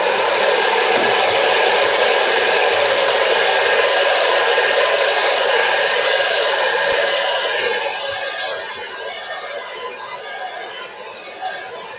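A hair dryer runs steadily and loudly while drying a mixed media canvas, a constant broadband whoosh that lightens and fades slightly over the last few seconds.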